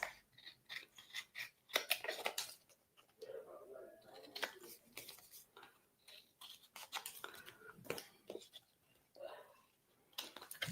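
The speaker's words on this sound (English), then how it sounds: "Now I'm going to go trim up my edges." Scissors trim the edges of card for cardmaking, with short crisp snipping cuts coming in scattered bursts between stretches of talking, all fairly quiet and close.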